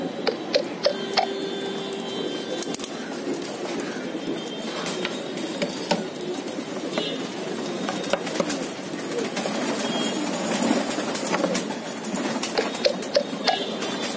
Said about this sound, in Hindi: देखिए सब कबूतर एक साथ, 35 वाले गोल्डन कसूरी का जोड़ा